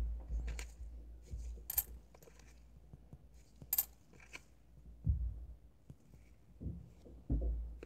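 Old Korean 10-won coins are sorted and handled, with several sharp metallic clinks and drops scattered among soft shuffling and handling noise, close and fairly quiet.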